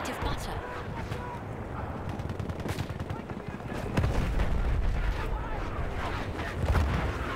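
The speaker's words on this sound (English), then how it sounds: "I've just had the grenade come in, so there's somebody near us." Grenade blasts and heavy gunfire in a Battlefield 1 battle, with booms thudding close by amid a dense, continuous din of shots and clatter, and voices talking over the fighting.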